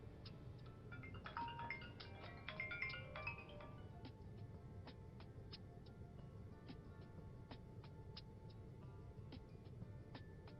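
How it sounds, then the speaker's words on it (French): A phone rings with an incoming call in a French-dubbed Nigerian film scene, a repeating electronic ringtone of short bright tones over a steady low background hum, faint and with no voices. "je ne vais pas décrocher cet appel"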